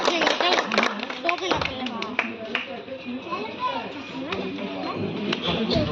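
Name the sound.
crowd clapping at a flag hoisting event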